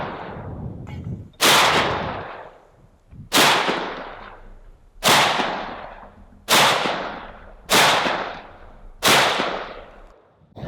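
Six loud, sharp gunshots from a custom-built .458 SOCOM AR-15 rifle ring out outdoors at a steady pace a couple of seconds apart, each followed by a long echoing decay.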